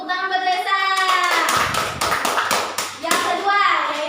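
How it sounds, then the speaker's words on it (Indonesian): A classroom of pupils clapping in praise of a classmate during a Qur'an and hadith lesson, a short burst of rapid, dense hand claps between a teacher's speech and children's voices. "Tepuk tangan buat Reza"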